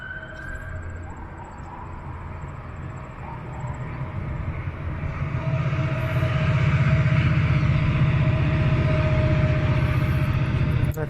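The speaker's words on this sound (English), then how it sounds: "It sounds like a GO train." A GO commuter train rumbles in the distance in Toronto, growing steadily louder as it approaches, with a low steady drone and a faint horn-like tone.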